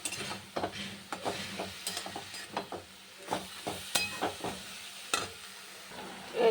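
Red spinach fries in a pan with green chillies, salt and turmeric, a soft sizzle broken by repeated scraping stir strokes at an uneven rhythm, close and fairly quiet.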